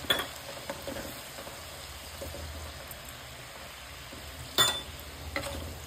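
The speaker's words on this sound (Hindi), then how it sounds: "मसाले ये गरम तेल में ही पक जाएंगे।" Ground spices being stirred into hot oil while cooking a mixed vegetable pickle, with a steady soft sizzle, occasional spoon scrapes and one louder clatter near the end.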